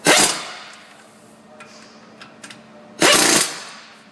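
A power tool drives bolts on a Ford Fusion 6F35 transmission during a left-hand axle seal repair, tightening 15mm bolts. Two short, loud buzzing bursts come at the start and again about three seconds later, with quiet workshop noise between.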